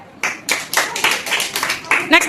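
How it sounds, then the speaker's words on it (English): Children in an English-learning classroom clap a few times in short bursts, close and fairly loud, with a voice briefly overlapping near the end. "I love my dad. Clap."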